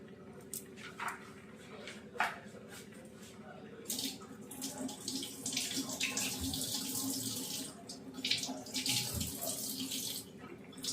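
Tap water runs steadily into a sink while eggplants are washed by hand, with splashes and squishing scrubs close by.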